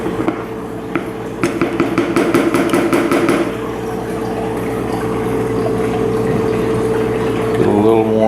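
A water pump hums and drones steadily on a Miller table during a gold cleanup, with a run of rapid metallic rattles early on and a shift in pitch near the end as water flow changes.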